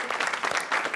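A television studio audience breaks into applause, a short, bright burst of many hands clapping at close range for about a second.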